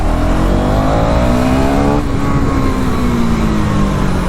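A KTM Duke 390 motorcycle accelerates hard in second gear, its loud, close engine note rising steadily, dipping briefly at a shift point, then climbing again, with no talk over it.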